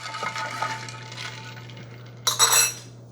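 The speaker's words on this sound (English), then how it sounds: "Let's stir it up a little bit." A spoon stirs ice in a glass of iced coffee brewed on a Keurig K-Express K26, giving a close, steady rattle and clink that ends in a brief, louder burst of clatter.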